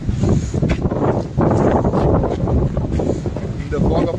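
Strong wind at Nandi Hills buffets the microphone in loud, continuous gusts, with a broad roaring rush that surges and dips and no other clear sounds over it.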